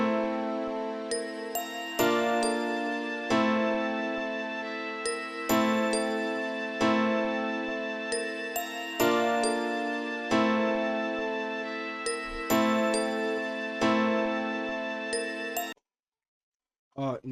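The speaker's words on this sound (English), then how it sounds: "So altogether, the entire chord, melody, counter melody sounds like this." Layered synth chords with a melody and counter melody from a remade beat, bright bell-like tones repeating in an even looping pattern, loud and alone, before stopping abruptly near the end.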